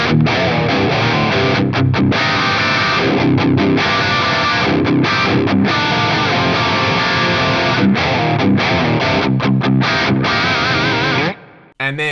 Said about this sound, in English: when you play chords with distortion, they're all really clear and really defined